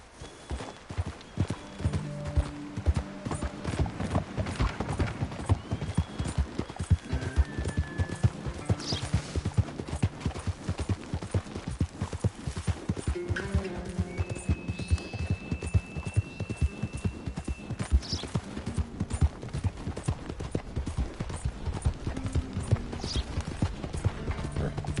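Horse hooves clip-clopping steadily as a rider travels in Red Dead Redemption II, with a regular close rhythm over ambient game sound and occasional faint bird-like calls.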